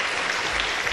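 Church congregation clapping for the prayer-house choir after its hymn, a dense, even wash of applause that holds steady for the full second with no voices over it.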